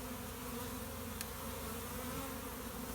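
Bees hum around an open beehive during hive work, a faint, continuous, even buzz of many insects with no voices and no distinct events.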